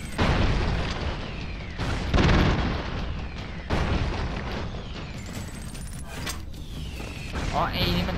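Explosions and gunfire from the run-and-gun video game Broforce: a dense, continuous barrage of booms and rapid shots with several heavier blasts standing out, loud and close throughout.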